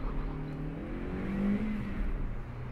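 A Seat Alhambra and a Suzuki Swift Hybrid accelerate from a standing start, giving a steady engine drone that rises and grows louder with the revs, with no talk over it.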